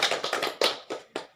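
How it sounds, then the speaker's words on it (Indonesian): A few close hand claps from a small group after a Posyandu group's presentation at a health and nutrition training session, six sharp uneven hits fading out. "Mari kita tepuk tangan untuk kelompok Posyandu."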